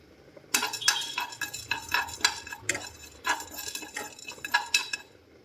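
Black pepper and cumin dry-roasting in a pan, stirred continuously with a metal spoon: busy close scraping and clinking against the pan over a faint sizzle, with no voices.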